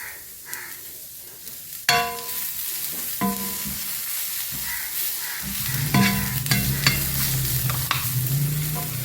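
Cabbage stir-fries in a pan with salt, making a lively sizzle broken by repeated metallic scrapes and stirring strokes. The frying grows fuller and louder in the second half, and nobody speaks.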